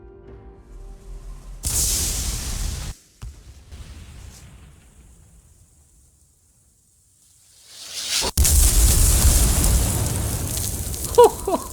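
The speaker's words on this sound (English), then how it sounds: "you'll probably have my same sentiments when you see this freaking round explode" A Sturmtiger rocket round explodes in a World War II tank video game: a heavy roaring blast breaks in suddenly, dies away into a quiet stretch, then a second loud, rumbling explosion swells and lingers with crackling debris.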